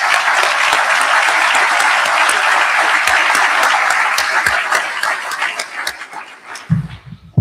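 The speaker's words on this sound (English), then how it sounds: "let's give everyone who put this incredible event together a round of applause" Loud, sustained audience applause at a defense and innovation summit, dense clapping from a large room that thins out and fades toward the end.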